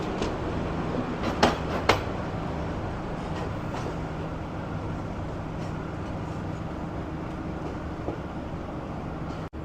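Blambangan Express train with a modified New Generation economy car rolling on rails, a steady rumble with occasional clacks and brief wheel squeals, heard from nearby at moderate level.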